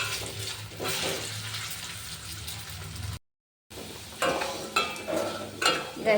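Egg and potato roasting in a kadai, with a soft continuous sizzle and scraping stirs, irregular clatters of a utensil against the pan, and a brief gap in the middle.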